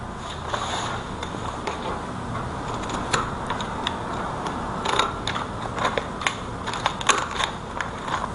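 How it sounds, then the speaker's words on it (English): Zigzag pinking scissors snip through fabric for a pleated tie, a run of close, crisp clicking cuts that quickens toward the end, with no voices. "Then I'll cut out with these zigzag scissors."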